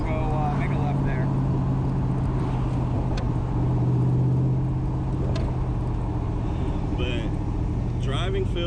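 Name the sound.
Someone's Cobra sports car driving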